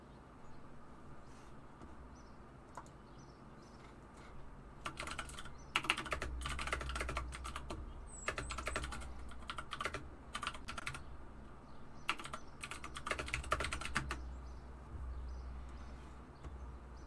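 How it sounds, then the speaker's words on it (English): Bursts of computer keyboard typing, rapid clattering keystrokes in several runs with pauses between, fairly close over a low background hum. "Taka typing intensifies"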